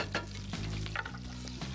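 A wooden spoon scrapes caramelized bits from the bottom of a hot pan, a soft continuous scraping and stirring over steady sizzling, close and alone.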